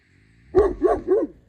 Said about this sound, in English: Max will start barking and run out